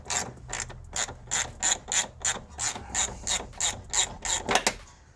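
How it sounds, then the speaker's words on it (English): A hand ratchet loosens a long coilover bolt on a Hyundai Veloster, giving a quick, regular run of sharp clicks in steady strokes, close and clear with no talking. "We get the ratchet on there."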